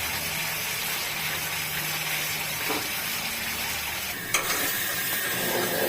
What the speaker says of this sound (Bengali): মশলাটা বাটাটা দেখি ভাজা ভাজা হয়ে এসছে